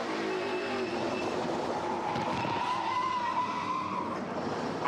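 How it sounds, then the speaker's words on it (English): A NASCAR Pinty's Series race car spinning at Sunset Speedway, heard onboard: loud, steady engine and tyre roar with a rising squeal of brakes running through it, no talking. "did you hear the brakes squealing on the onboard?"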